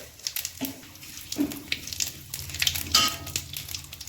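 Cumin seeds and two bay leaves sizzle in hot oil in a kadai, a close crackling hiss with a few sharper pops and some clinks, with no talk over it.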